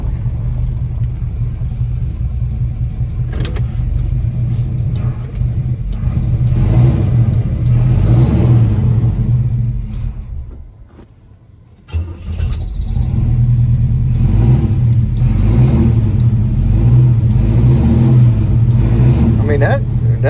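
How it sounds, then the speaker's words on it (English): A 1979 big block square body truck engine idles up and revs repeatedly, a loud close rumble rising and falling, briefly dropping almost to silence mid-way before surging again. "Just idle it up a little bit and get the throttle cable pulling that carburetor back all the way is all it is."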